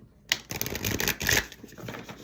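Tarot cards are shuffled by hand in a quick rippling riffle, a dense run of crisp flicks and slaps heard up close, with no one talking over it.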